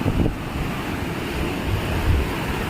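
Sea waves wash over the rocky stone shore of Chitrapura Beach, a low rumbling surge with wind buffeting the microphone, continuous and fairly close throughout without speech.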